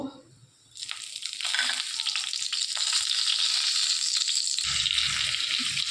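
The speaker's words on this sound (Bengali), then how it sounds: "এখানে ফোড়নের জন্য নিয়েছি গোটা জিরে, তেজপাতা, আর এই যে দুটো এলাচ, লবঙ্গ আর দালচিনি। এটা আমি ফোড়ন দিয়ে দেব।" Whole cumin, bay leaf, two cardamom pods, clove and cinnamon hit hot oil in a pan and burst into a loud, close, continuous sizzle that keeps going after a short quiet start, with a few faint stirring knocks.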